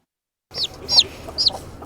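Short, close chicken clucks and squawks on a farm, three or four high calls in quick succession over a light background murmur.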